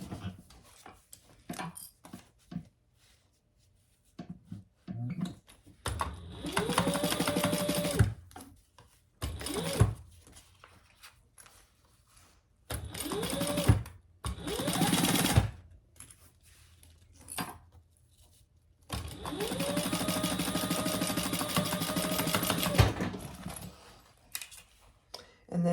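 A sewing machine bastes fabric for a clutch wallet in several short stitching bursts, each a rapid mechanical whir that starts and stops, separated by quiet handling clicks and fabric rustle.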